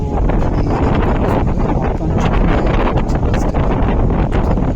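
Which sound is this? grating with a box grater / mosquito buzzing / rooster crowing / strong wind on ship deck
strong wind on ship deck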